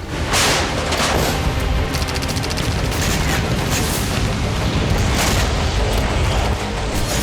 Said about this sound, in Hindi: तबाही का ऐसा तांडव, धमाकों का ऐसा सिलसिला